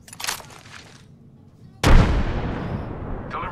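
Frag grenade in the video game Apex Legends, a short burst of game chatter and clatter, a brief quiet, then a sudden loud close explosion with a long rumbling decay.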